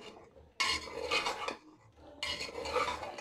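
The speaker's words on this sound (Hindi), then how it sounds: "जो मशरूम लिया था वो भी ऐड करके अच्छी तरह से मसाला के साथ मिक्स" A utensil scrapes and rubs against a pan as mushrooms are stirred into masala for biryani, in two close, gritty bursts of scraping separated by a brief lull.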